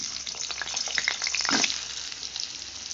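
Potatoes frying in hot white oil, a bright crackling sizzle with rapid pops that swells briefly midway, close and without talk.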